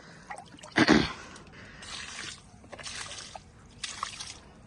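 Kitchen waste liquid with vegetable peels poured onto home garden plants, giving a short splashing gush followed by softer trickles and drips, fairly close and moderately quiet with no talk.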